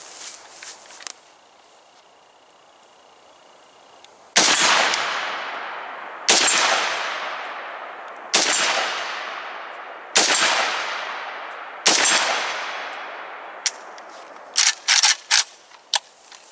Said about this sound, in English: this is the very first 5 shots through the AK-104 from Palmetto State Armory